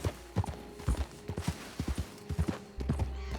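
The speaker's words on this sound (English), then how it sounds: "That's a horse with a saddle?" A saddled horse walks over open ground in the Red Dead Redemption 2 video game, its hooves giving a close, irregular clip-clop of about a dozen distinct steps with no talking.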